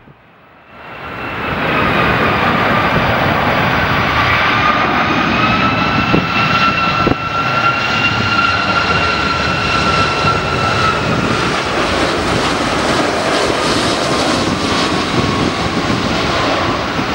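A Boeing 757 landing: a loud, steady jet roar holds for the whole stretch after a quick swell, with a high whine riding over a broad rumble.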